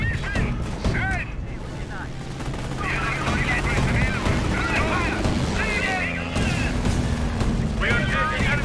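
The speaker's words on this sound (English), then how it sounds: "We are taking enemy fire!" Rapid machine-gun and rifle fire rattles through a Company of Heroes battle, loud bursts repeating over several seconds alongside shouted soldier voice lines and game sounds.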